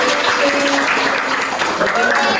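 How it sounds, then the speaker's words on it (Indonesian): A class of students claps continuously in dense, steady applause, fairly close and loud, with some voices mixed in underneath. "Tepuk tangan dulu dong buat ini."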